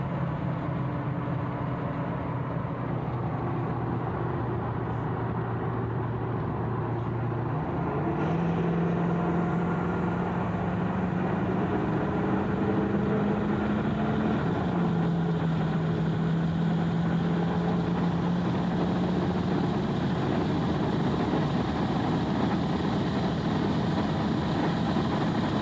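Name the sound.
Ford 6.4 diesel truck with big turbo accelerating hard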